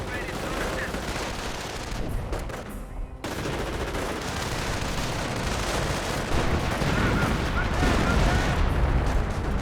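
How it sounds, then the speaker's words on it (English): Creeping artillery barrage in Company of Heroes 1 pounding German Panzer Grenadier infantry: continuous heavy booms and crackling gunfire roll on without a break, loud and dense, with a commentator's voice faintly under the battle noise. "Creeping barrage nailing the Panzer Grenadier."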